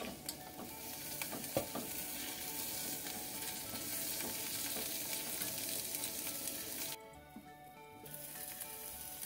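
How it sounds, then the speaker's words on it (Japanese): Onions sizzle steadily in a hot pan for a Japanese beef bowl, a loud continuous frying hiss with occasional stirring scrapes, quieting briefly near the end before resuming. "まず先に玉ねぎが柔らかくなるまで炒めていきます。"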